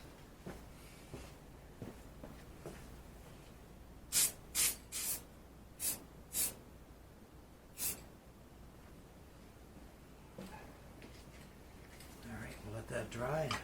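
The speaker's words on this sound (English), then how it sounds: "Just a coat of primer." Short bursts of aerosol primer sprayed onto a headlight bracket for a Royal Enfield Continental GT 650 cafe racer, about six sharp hissing puffs at close range, with faint speech and shuffling before and after.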